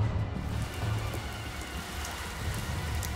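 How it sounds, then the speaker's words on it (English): Rain falls steadily on a surface outdoors, a continuous even hiss with pattering drops at moderate volume and no voices. "and returns to Earth in the form of rain"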